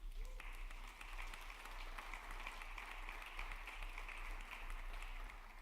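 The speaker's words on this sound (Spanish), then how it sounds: "Un aplauso para ellos." Church congregation applauding its deacons, a steady wash of many hands clapping that holds evenly for several seconds in a large room, moderately loud and without talk over it.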